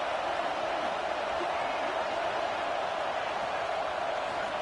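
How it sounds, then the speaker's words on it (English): A football video game stadium crowd roars in a steady, dense, loud wash of noise that holds without breaks, with no distinct voices standing out. "This crowd bringing the energy and noise early."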